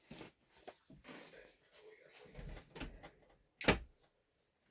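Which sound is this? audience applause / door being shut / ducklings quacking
door being shut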